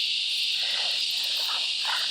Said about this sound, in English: So we have a little cicada